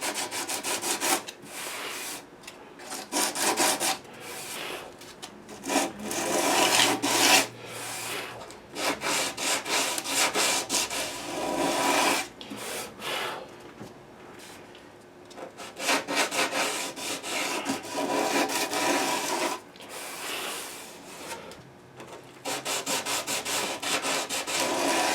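A classical guitar being sanded with 120 grit sandpaper during a re-fret, giving steady back-and-forth rasping strokes in a loose rhythm, close and fairly loud with brief pauses between passes and no talking.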